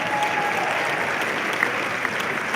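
Audience applause at a CPAC conference event, a dense, steady wash of clapping from a large crowd at close range, sustained and even throughout.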